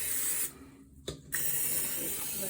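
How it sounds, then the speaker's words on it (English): Cooking spray hissing into the insides of baking tins in a home kitchen while making gluten- and starch-free cookies, a steady close spray that stops briefly, with a short click before a second burst. "Should we spray the insides of these too?"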